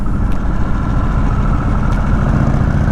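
A Harley-Davidson Sportster S motorcycle engine runs loud and close while riding the sharp hairpins of the Tail of the Dragon, a dense low rumble that stays steady throughout.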